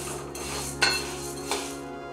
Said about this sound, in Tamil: வாசனை வர அளவுக்கு வறுத்துக்கணும்.